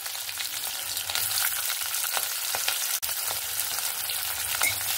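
Cumin seeds, three green chillies, chopped onion and chopped tomato frying in oil in a kadai, producing a dense, close, steady crackling sizzle with occasional stirring scrapes.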